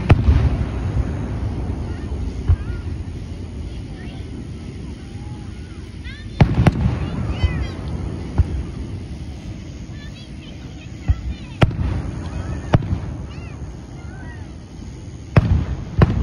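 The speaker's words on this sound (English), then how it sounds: "Y'all will see the fireworks when I get to them." Fourth of July fireworks go off at a family gathering, with a few sharp bursts and cracks spread across a noisy outdoor background while people talk.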